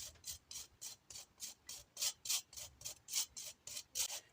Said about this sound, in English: So I'm just going to shred some carrot.